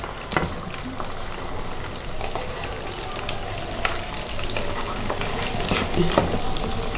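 Beef chops fry in hot oil with a dense, continuous sizzle and crackle, close and steady throughout, with occasional sharper pops and a faint scrape of stirring.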